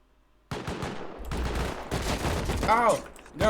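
AK gunfire in the online survival game Rust rings out in rapid bursts of shots, mixed with players talking over it.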